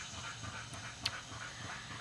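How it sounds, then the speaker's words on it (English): A dog pants nearby in quick, breathy rhythmic puffs, quiet and close, with a brief sharper sound partway through and no talking. "I'm sorry if you can hear my dog"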